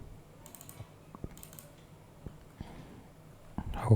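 Code typed on a computer keyboard, a sparse series of light key clicks and taps, close and fairly quiet, with a denser flurry of keystrokes at the end.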